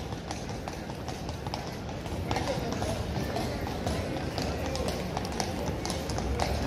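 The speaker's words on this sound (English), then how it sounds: "So yeah, horse and carriage." Horse-and-carriage hooves clip-clop in a quick, steady rhythm on pavement in Kraków, Poland, fairly close, over continuous street noise with talking in the background.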